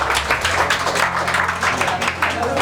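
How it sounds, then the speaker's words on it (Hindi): An audience claps loudly for a junior engineer guest at a school coaching institute's annual function, the applause sustained and dense throughout, with a low steady hum underneath. "एक बार जोरदार तालियां हो जाए शुभम जी के लिए।"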